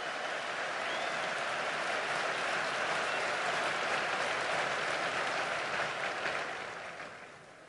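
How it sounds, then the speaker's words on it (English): A large outdoor crowd at the West Point military academy commencement applauds, a broad, sustained wash of clapping that holds steady and then fades slightly toward the end. "how about a round of applause for the class of 1974 and their outstanding dedication to"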